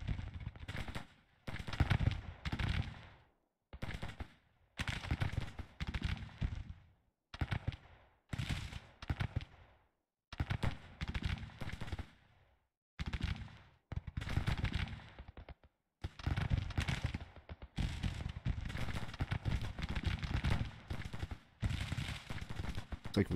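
Volleys of cavalry gunfire ring out in a Grand Tactician battle at Strasburg during the Union campaign, coming in repeated bursts broken by short silences, with some talk mixed in.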